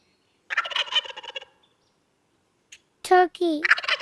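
Farm turkey gobbling in two bursts: a rattling gobble, a pause, then a louder, closer warbling gobble call, with no talk over it.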